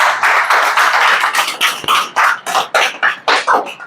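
Audience applause after a thank-you at a direct-selling seminar session: a loud burst of clapping from a crowd, with the sharp claps settling into a near-rhythmic, unison beat toward the end.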